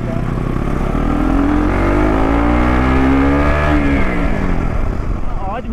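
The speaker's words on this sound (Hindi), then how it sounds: "इन गलियों में ना बहुत ही आवाज आ रही है बाइक की।" KTM motorcycle riding through narrow lanes in Kashmir, a loud close engine drone with rising and falling revs echoing between walls, steady throughout.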